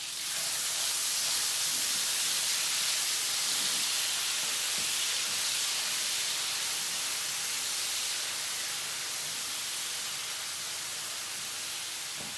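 Garlic sizzles in a hot pan alongside browning, tender ingredients over lowered heat, a steady broadband hiss holding close and even throughout with no talking.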